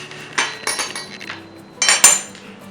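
A kitchen knife is picked up among other utensils in a kitchen, making a few close, bright clinks and rattles in short bursts with quiet gaps between.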